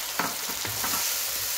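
About a kilo of chicken dropped into a hot pan for gobi chicken, giving a loud, dense sizzle with a few quick stirring scrapes in the first second.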